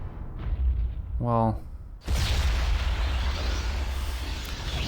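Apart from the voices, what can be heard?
Meteor Storm spell explosions in Planescape: Torment video game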